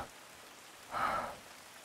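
Rain falls in a horror visual novel game, a soft, continuous patter with a brief louder swell of splashing near the middle.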